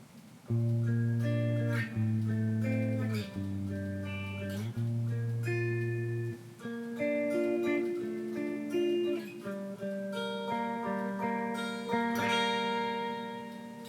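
Guitar plays a passage from a song, a steady run of sustained, overlapping chord tones and melodic notes that continues without a break and without any voices.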